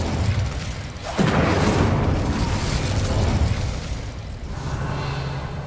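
A fire spell cast in the Hogwarts Legacy video game bursts out with a loud booming whoosh, then a sustained roaring crackle of flames fading over several seconds, heard alone.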